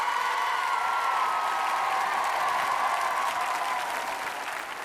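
A French television variety show audience applauds a singer, a dense, steady wash of clapping from a large crowd that fades slightly toward the end.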